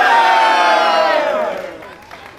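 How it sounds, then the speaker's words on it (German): A crowd at the Suzuki Lake Run meet on the Möhnesee cheers loudly together, a dense burst of voices and whoops that swells at once and then fades out over about two seconds. "Und nochmal ein Jubel."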